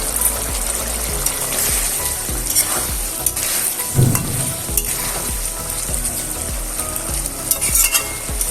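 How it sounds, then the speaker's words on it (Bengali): Eggs for an egg and pointed gourd curry frying in spiced oil, a steady hiss of sizzling with rhythmic stirring strokes against the pan, close and fairly loud, with no one speaking. "এবার আমি ডিমগুলো এর মধ্যে দিয়ে দিচ্ছি।"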